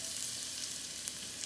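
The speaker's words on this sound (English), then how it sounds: "let these guys sizzle for a little bit" Steady, loud sizzling of onions and garlic frying in a skillet over medium-high heat, a continuous crackling hiss with no voices.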